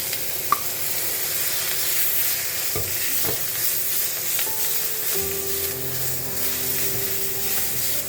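Onion and green chili fry in hot oil with a loud, continuous sizzle, then boiled greens go into the pan partway through and a low steady tone joins the crackle; no speech is heard.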